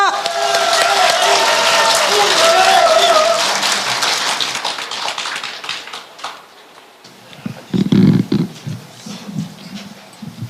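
Crowd applause at a Korean party leadership rally fills the start loudly and then fades, and an amplified voice takes over in the later seconds.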